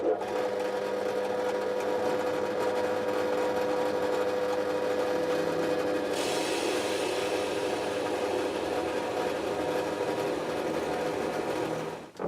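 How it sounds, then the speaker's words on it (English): A jigsaw cuts a wooden workpiece clamped to a bench, for a doll's highchair, with a continuous close buzzing whine that shifts to a harsher, brighter tone halfway through. "cut the rest out with the jigsaw"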